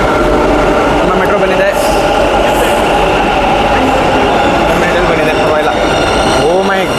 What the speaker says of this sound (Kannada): ಮೆಟ್ರೋ ಬಂದಿದೆ.